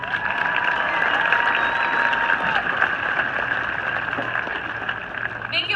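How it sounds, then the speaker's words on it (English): Applause fills a graduation ceremony after school officials are introduced, steady dense clapping from a large audience sustained throughout with some faint crowd noise beneath. "Can we please give them a round of applause?"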